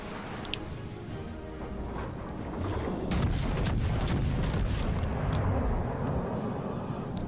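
Main guns of the battleship Bellerophon in World of Warships Legends boom in a heavy salvo, with a deep rumbling roar and sharp cracks from the midpoint on over a constant battle din.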